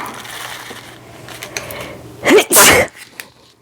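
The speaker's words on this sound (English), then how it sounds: "knew I had a sneeze coming" One loud, close sneeze bursts out abruptly after a quiet moment of light handling noises, with a sharp intake and a forceful expulsion.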